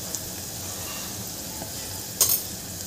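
Tondli rice masala is stirred in a pan on a steady low sizzle, with a faint spoon tap near the start and one brief louder scrape toward the end.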